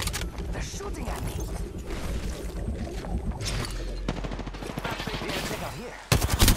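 Gunfire in the battle royale shooter Apex Legends during a ranked match: a dense stretch of rapid automatic shots with mechanical clatter, turning into fast close bursts near the end, with talk faintly underneath.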